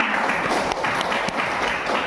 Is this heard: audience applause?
yes